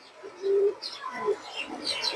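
A female pigeon gives a soft, low coo close by, followed by a few faint higher chirps and rustles.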